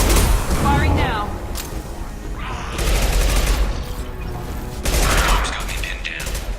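Video game firefight in Mass Effect 2 against a charging Krogan, with loud bursts of gunfire and booming impacts in clusters, separated by brief lulls, mixed with battle noise and game sound.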